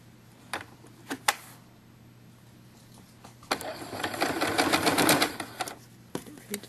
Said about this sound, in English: Let's sew number two.